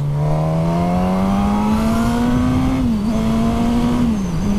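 Suzuki GSX-S1000 straight-four motorcycle pulling hard in second gear from about 4000 rpm, a steady rising engine drone with a brief dip and recovery, loud and close over wind rush, with no talk.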